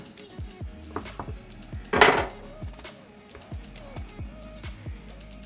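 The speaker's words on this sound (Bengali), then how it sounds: "চুরির সাহায্যে যতটুকু পরোটা বানাবো বড় ছোট করে এভাবে সবগুলা কেটে নেব" Knife cutting paratha dough into pieces on a hard surface, a steady series of soft knocks with one louder clatter partway through.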